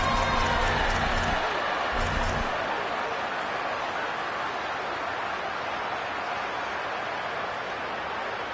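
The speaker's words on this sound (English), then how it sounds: "The loudest jet you can think of has nothing on this crowd as they try to help the Falcons on third down" A stadium crowd roars loudly and steadily on third down at a Navy at Air Force college football game. The noise is a dense, continuous wall of sound, with a brief voice near the start.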